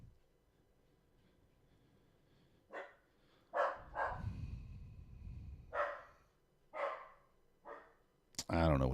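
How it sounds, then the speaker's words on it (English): A dog barks several times in separate sharp bursts at a moderate distance, with quieter background sounds between barks and a louder noise at the end. "He loves to bark at nothing."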